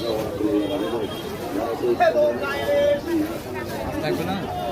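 Busy crowd chatter at Banarupa Bazar, a market in Rangamati, a steady hubbub of many overlapping voices close and distant with bargaining talk rising and falling throughout.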